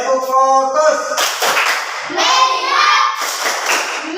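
Children in an Indonesian classroom perform the rhythmic clapping game "tepuk fokus", with several bursts of group clapping mixed with voices chanting and talking across the room.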